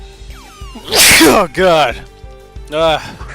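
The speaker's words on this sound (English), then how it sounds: "I was trying to hold in that sneeze and I couldn't reach for the mute button." A stifled single sneeze bursts out loudly and close to the microphone, followed by someone talking, with a brief pause and another short vocal burst afterward.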